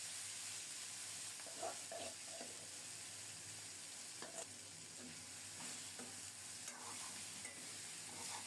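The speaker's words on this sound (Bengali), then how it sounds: "এবার শাক দিয়ে দেব।" Gima shak greens stirring and sizzling in a pan of hot mustard oil tempered with a dried chili and whole cumin, a soft, steady frying hiss broken by faint scraping stirs, heard alone without talk.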